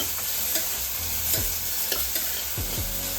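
Potato and drumstick bhaji sizzles in hot oil, crackling steadily up close while a spoon scrapes through it in several strokes. There is no talk.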